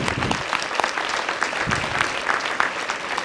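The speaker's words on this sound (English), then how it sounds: "So we like to applaud her in her absence." Audience at a volunteer recognition luncheon clapping for an awardee, a crisp, sustained round of many hands with sharp individual claps standing out.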